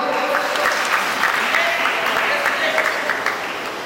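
An audience at a religious ceremony marking the initiation anniversary of three Jain monks in Sardhana breaks into loud, steady applause, a dense wash of clapping that holds throughout, with voices mixed in.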